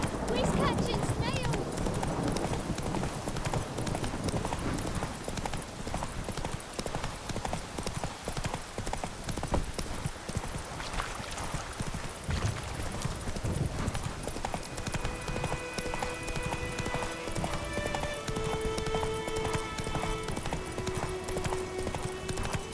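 Roach, a horse in The Witcher 3 video game, gallops with fast, rapid hoofbeats that run nearly continuously under dense game sound, while characters talk and music rises toward the end.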